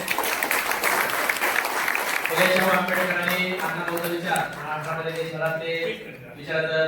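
An audience claps at a public talk in Maharashtra to welcome guests. A dense burst of applause fills the opening seconds, then fades under a voice speaking over the crowd.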